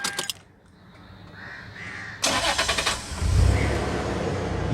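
A 2000 Toyota Hilux Surf SSR-G cranks and fires up after a short quiet stretch, its starter catching into a rough, steady idle up close, with no talk over it.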